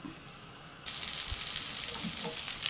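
A bread and egg snack fries with butter in a covered pan, a quiet background that jumps into a steady, soft sizzle that continues to the end.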